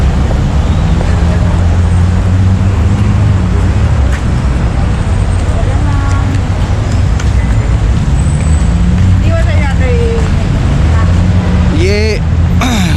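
Steady roadside traffic on a busy Dubai street in Al Rigga, with cars passing and halting amid a loud, continuous engine and road rumble, a few horn-like tones near the end, and people talking over it.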